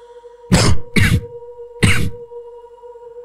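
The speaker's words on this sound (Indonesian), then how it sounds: "Hanya suara batuk yang terdengar dari mulut Mama." A woman coughs three times, two close together and then one more after a short pause, close and distinct, with a faint steady hum in the background.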